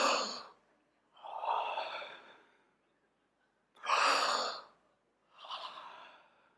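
A person imitates crocodile breathing with the mouth wide open, producing four loud, breathy exhalations and gasps with short silent gaps between them.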